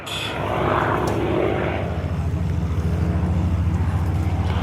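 A P-51 Mustang propeller fighter roars past in a low-level flyby at an airshow, its loud, steady engine drone swelling and holding with a rough, throbbing low rumble.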